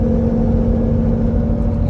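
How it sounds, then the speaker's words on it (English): Steady, loud road noise heard from inside a Land Rover Defender on 35-inch tires while cruising, a dense low drone with a constant humming tone and no change across the moment, with no voices. "many of you guys have asked about the road noise in the Defender with the 35s, and this is it"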